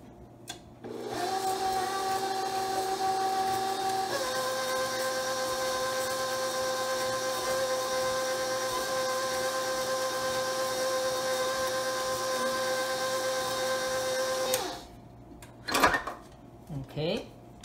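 An electric mixer beats butter and sugar for a pineapple bun topping, giving a steady, whining motor hum that shifts pitch once and then runs for about fourteen seconds before stopping, followed by brief clatter.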